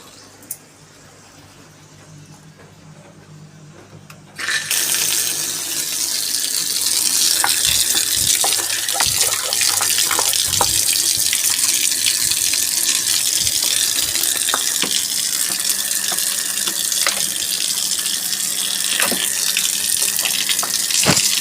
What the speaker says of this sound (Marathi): आता बाल्कनी पण वॉटर वॉश करून घेणार आहे